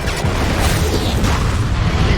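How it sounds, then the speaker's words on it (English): An explosion in a Final Destination movie, a loud, dense roaring blast that fills the whole moment with sustained rumble and debris noise, heard alone without voices. "So many explosions in this movie."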